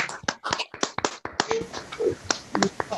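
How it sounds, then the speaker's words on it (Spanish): Scattered, uneven hand claps from a few participants at an online academy induction ceremony, crisp and close, overlapping with brief voices in the background. "Un aplauso."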